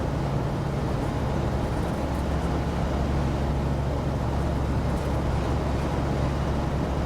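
A Kitfox 2 aircraft engine in Microsoft Flight Simulator 2020 drones at high revs, a loud, constant, dense roar with a low steady hum and no breaks or voices.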